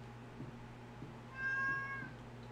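A cat in the Stardew Valley farming game lets out a single clear, drawn-out meow midway, over a faint steady background hum with no talking.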